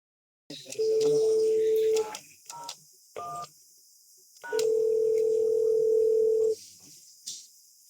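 An analog phone on a Grandstream GXW42xx gateway gives a steady dial tone, then a scatter of short keypad beeps, then a second long tone. A voice is heard faintly in the gaps.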